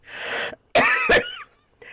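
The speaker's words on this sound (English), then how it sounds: "I'm coughing like crazy." A few harsh, close coughs and throat-clearing bursts, separated by brief silences, with a short breathy sound trailing at the end.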